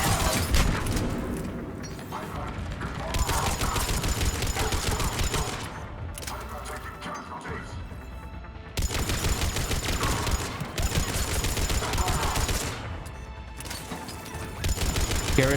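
Grenade blasts and sustained gunfire in the video game Mass Effect 3, loud bursts of shooting broken by brief gaps across the whole stretch, with a voice faintly underneath.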